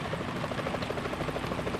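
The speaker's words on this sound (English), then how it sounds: "Chopper I just heard?" Helicopter in the stealth action game Metal Gear Solid 2, a steady, fast rotor thump droning at an even level throughout with no voices over it.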